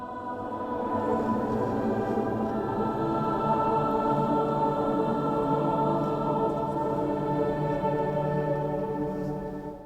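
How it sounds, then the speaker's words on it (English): Sustained tones hang and blend in a long, even wash of resonance inside the Lotus Temple in New Delhi, as if voices or instruments ring through a vast reverberant hall, steady throughout. "The recording that you're now listening to was made inside the Lotus Temple in New Delhi."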